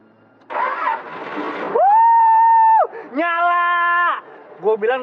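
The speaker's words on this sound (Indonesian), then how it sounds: "Mendingan lo coba dulu nyalain mobilnya." A car engine is cranked and brought to life, a rough noisy burst of starting followed by loud sustained tonal sounds and a few shorter bursts near the end.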